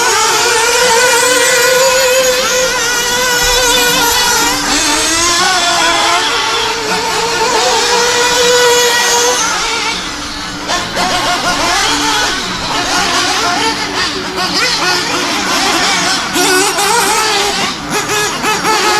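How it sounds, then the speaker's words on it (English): A gas-powered RC truck races around a St. Louis dirt track among A-scale nitro trucks, small engines whining and revving continuously, pitch rising and falling as they accelerate and slow through the layout, loud and close throughout. "you guys can kind of see the speed comparison between the A-scale nitros and the gas truck"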